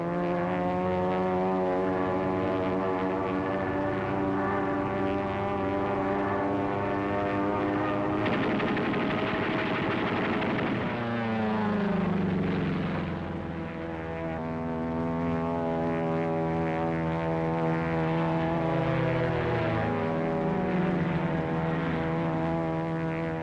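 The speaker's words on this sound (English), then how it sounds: "Now look at that plane. That's no Zero, that's a P-40." A P-40 propeller fighter plane drones overhead with a steady, loud engine roar whose pitch bends downward as it passes, heard alone for over twenty seconds.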